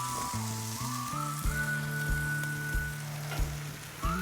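Burgers cook on a Blackstone griddle, giving a quiet, steady sizzle and crackle beneath tonal background music.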